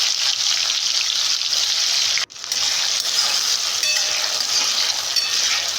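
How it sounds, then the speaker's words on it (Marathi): Mustard seeds and cumin fry in hot oil in a kadai, a loud, steady hiss and crackle with a brief dip near the middle, close by and alone without speech. "कढईत तेल गरम करून त्यात मोहरी, जिरे घाला"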